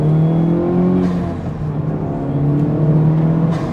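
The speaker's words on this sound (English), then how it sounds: "rev it up a little bit, hear that turbo" A Honda Civic Type R FL5 turbo engine fitted with an Armaspeed intake revs steadily nearby, its loud droning tone rising and falling through a few throttle blips.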